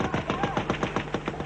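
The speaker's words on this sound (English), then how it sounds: "A loudspeaker and gunfire from the Turkish side warns them to stay where they are" Automatic gunfire from across the Turkish border rattles off in a rapid, even burst of about a dozen sharp shots, loud and close, with a faint voice underneath.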